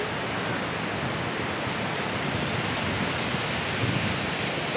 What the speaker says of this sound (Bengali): কত সুন্দর ঢেউ আসছে।